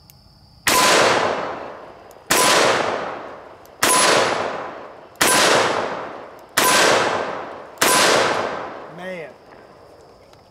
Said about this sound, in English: Now let's try the 44 Magnum with the 8 3/8 inch barrel.